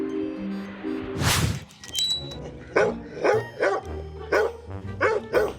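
A dog barks repeatedly inside an apartment building: a burst of noise, then about seven sharp, evenly spaced barks, loud and close, with no talking.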